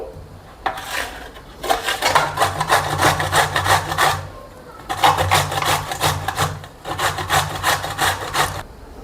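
Carrots are grated by hand on a grater for carrot halwa, giving two bouts of quick, rhythmic rasping strokes separated by a short pause. The sound is close and fairly loud, with no talking.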